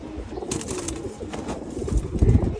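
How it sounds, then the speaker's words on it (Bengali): Female pigeons on a rooftop loft, racing birds that have flown tournament distances, give low repeated coos close by, with faint rustling and a louder burst of cooing toward the end. "সবার আগে প্রথমেই দেখায় একটা কবুতর"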